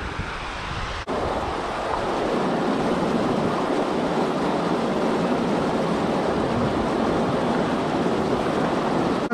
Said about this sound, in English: Let's do some sluicing.